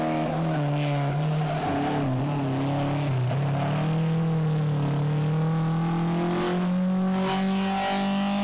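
A rally sprint car is driven hard through a series of corners, its engine loud and close, howling in sustained notes that rise and dip as the driver works through the bends, with no talk.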